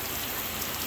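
Heavy rain pours down steadily at an off-grid homestead in Tennessee, a dense, even hiss of falling water with no break and no voices.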